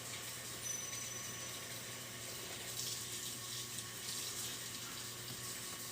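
Water runs steadily from a tap while tie-dyed clothes are rinsed, a continuous even hiss with no breaks, close and fairly quiet, and no one speaking.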